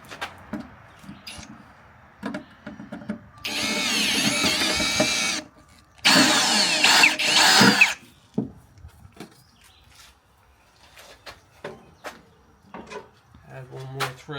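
A power drill whirs loudly in two sustained bursts, separated by a short pause, enlarging a hole for a threaded insert in a Bronco trunk door shelf, with scattered clicks and handling noises before and after.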